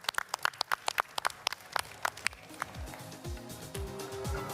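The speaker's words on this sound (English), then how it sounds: "let's give them a round of applause" Audience applause at a Solana Accelerate APAC 2026 conference, a burst of sharp separate claps that quickly thins out and gives way to a low murmur and shuffling in the hall.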